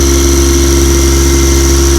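A tow boat's engine runs close and very loud, a steady, unbroken low drone with a constant mechanical hum and vibration that stays even from start to finish.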